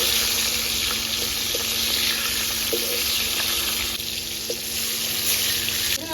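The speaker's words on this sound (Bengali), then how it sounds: "এক সাইড ভাজা হয়ে গেছে, উল্টে দিচ্ছি।" Silver carp pieces frying in hot oil and turned over to the other side, with a loud continuous sizzle broken by a few light clicks and taps.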